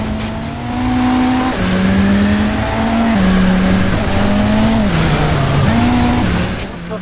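Car driving in a Transformers video game, a steady loud engine drone with rising and falling pitch shifts and occasional tire squeals running throughout.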